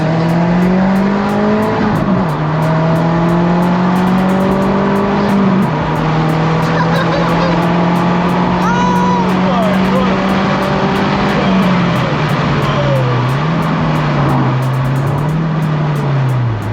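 A loud Audi S3 8L with a 210 hp APY engine roars continuously close by, pitch climbing, dropping and rising again through repeated revs, with a faint voice underneath.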